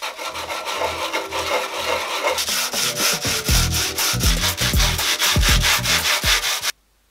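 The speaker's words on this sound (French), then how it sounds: "je vais commencer à la poncer" Wooden board being sanded by hand, a close, steady rasping rub in rhythmic back-and-forth strokes that grow heavier midway before stopping abruptly near the end, with no voices.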